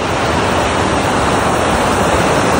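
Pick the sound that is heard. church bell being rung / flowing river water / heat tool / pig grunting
flowing river water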